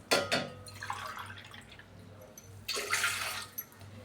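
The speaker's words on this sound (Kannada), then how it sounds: "ಪಾತ್ರೆಗೆ ಒಂದೂವರೆ ಗ್ಲಾಸ್ ನೀರು ಹಾಕ್ತಾಯಿದ್ದೀನಿ" About one and a half glasses of water are poured into a cooking pot for jowar flour roti dough. It comes in two short splashing bursts separated by a pause, fairly quiet and close.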